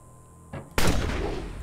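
A single musket shot in the video game Betrayer, preceded by a faint click, then a loud booming blast that lingers briefly.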